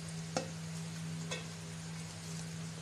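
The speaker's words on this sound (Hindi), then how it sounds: "ऑयल हमारा गर्म हो गया है तो मैं इसमें ये जो प्याज मैंने काटी है ये मैं इसमें डाल देती हूँ" Chopped onions fry in hot oil for an egg and chickpea curry, a steady close sizzle with two sharp stirring clicks over a faint background hum.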